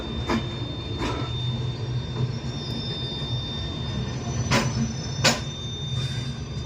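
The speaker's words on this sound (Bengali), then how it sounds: "লখনৌ ছেড়ে আমাদের ট্রেন বারেলির দিকে যাচ্ছে।" A passenger train runs on rails after leaving Lucknow for Bareilly, heard as a steady rumble with a few sharp clacks and a faint squeal of wheels, without any voices.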